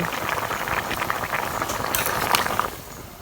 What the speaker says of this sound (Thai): พอน้ำแกงเราเดือด เคี่ยวจนได้ที่แล้วนะคะ